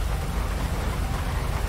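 Steady heavy rain pours without a break in the GTA V video game, a dense hiss with a low rumble beneath it and no voices.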